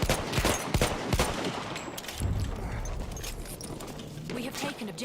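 Enemy machine gun fire in a video game battle, sharp rapid bursts crackling in the first seconds and then trailing off under ongoing game noise, with voices talking over it.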